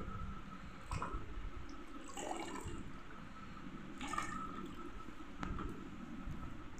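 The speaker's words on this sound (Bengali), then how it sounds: "আমি এখন ঘর মোছার জন্য জল নিয়ে নিয়েছি," Water for mopping a floor sloshes and splashes faintly in a container at home, with a few soft splashes and drips spaced a second or two apart over a quiet background.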